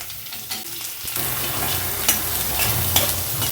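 Chopped onion with green chilli, urad dal and curry leaves frying in a pan, a close steady sizzle with the scrape of a spoon stirring through it, no talking.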